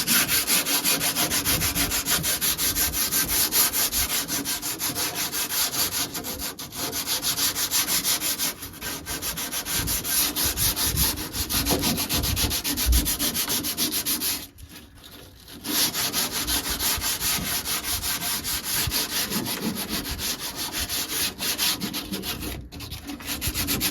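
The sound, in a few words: sanding by hand with 240 grit sandpaper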